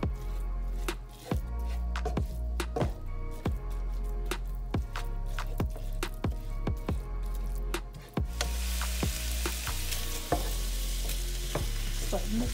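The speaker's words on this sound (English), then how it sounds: "So you just gotta keep stirring it." Ground meat for sloppy joes sizzles and fries in a pan, stirred with a steady run of scraping utensil strokes against the pan; the sizzle grows brighter and hissier in the last few seconds, close and without talk.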